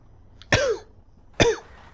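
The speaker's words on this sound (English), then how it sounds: "I'm going to be coughing and snorting up this podcast" Two sharp, close coughs with throat clearing, about a second apart, loud against a quiet background.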